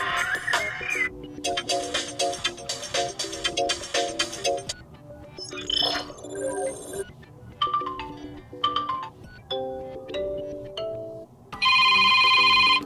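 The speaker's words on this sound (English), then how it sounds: "you can just select one of these pre-installed ringtones." A sequence of different pre-installed ringtones on a Motorola Moto G31 phone plays one after another, bright melodic tones and chimes, ending with a loud, dense electronic ring.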